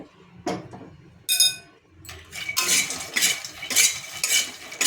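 A spoon clinks and scrapes against a pan while makhana is stirred into oil seasoned with masala and amchur powder, giving irregular bursts of rattling and metallic clinks with short pauses, close and fairly loud.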